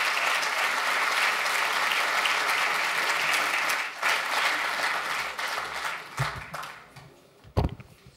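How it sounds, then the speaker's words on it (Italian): Applause fills a conference hall in Milan for a speaker at a political talk event. It is broad and sustained at first, then thins and fades near the end, where a couple of sharp knocks stand out. "Un applauso al professor Marco Eugenio di Gian Domenico."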